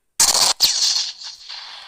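A Tiger tank's cannon fires in Roblox WW2 Tank Simulator: one loud, sharp blast, then a second burst and a long decaying rumble that fades out.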